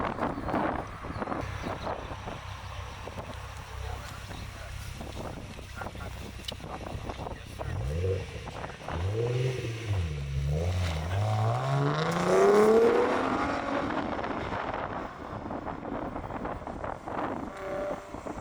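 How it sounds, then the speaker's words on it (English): A Ford Mustang on a track pass at a Winnipeg Sports Car Club HPDE event, its engine rising and falling as it revs through gears and passes at a distance, under wind noise and faint talk. "We've got a Mustang about to go out and do a little pass here."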